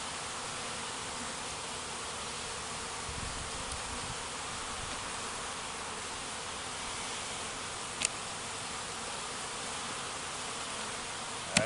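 Dense, steady buzzing of many honeybees stirred up while brood comb frames are moved from a nuc into a 10-frame hive body, continuous and close, with a couple of sharp clicks from handling near the end.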